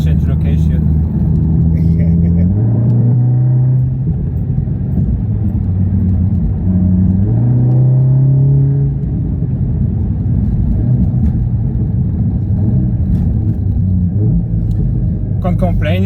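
A 400bhp Audi S3 8V Black Edition launching hard, its exhaust a loud, continuous low rumble with tonal sweeps that climb and drop as the revs change, close and sustained throughout.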